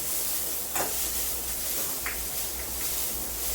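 Three chopped onions hitting hot oil with curry leaves, giving a steady broadband sizzle and hiss throughout with a couple of brief brighter crackles, close and moderately loud.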